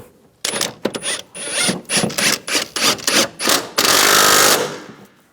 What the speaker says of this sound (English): Make sure that's all lined up, and we'll tighten that one down first. Tighten it down. Now tighten down the other ones.